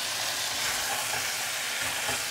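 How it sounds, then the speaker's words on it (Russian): Flour being stirred into veal pan juices deglazed with wine, a steady close sizzle and frying hiss with soft scraping in the pan and no voices. "А здесь нужно перемешать муку"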